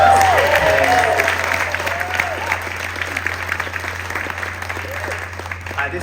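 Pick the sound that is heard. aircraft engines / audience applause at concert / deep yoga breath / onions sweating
audience applause at concert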